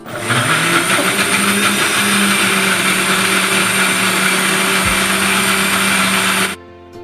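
A mixer grinder whirs steadily as it blends chopped carrot with coconut milk for a Kerala-style pudding, a loud continuous motor drone that cuts off abruptly near the end.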